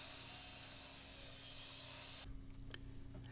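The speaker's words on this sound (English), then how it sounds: "To brace the sign, I'm going to cut out 3 8-inch 1x4s." A saw cutting through wooden 1x4 boards for a sign brace, heard as a steady, faint rasping noise for about two seconds that then stops, leaving a quiet room with a few small knocks.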